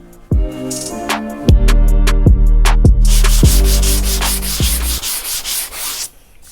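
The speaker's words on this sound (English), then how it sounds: "This glazing putty, it's a lot easier to sand than regular body filler." Two-part glazing putty is sanded by hand on the cab corner of an OBS Chevy Silverado during bodywork. Loud, steady rubbing strokes run for several seconds, with no talking.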